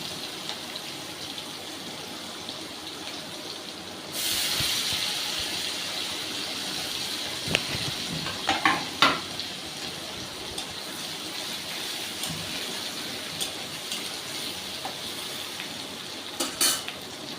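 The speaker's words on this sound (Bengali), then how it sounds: "পেঁয়াজগুলো হালকা করে ভেজে নেবো" Onions frying lightly in oil for a Bengali egg curry, a soft sizzle that swells after a few seconds, with scattered scrapes and clinks of a utensil on the pan, no voices.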